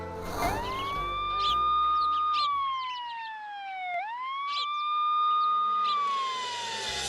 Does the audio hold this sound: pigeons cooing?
no